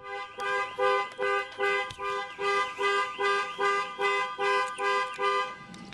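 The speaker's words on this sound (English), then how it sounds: "Sorry about that, set the alarm off." A Land Rover Discovery 4 car alarm goes off nearby, sounding a loud, regular pulsing tone in even bursts of about half a second throughout.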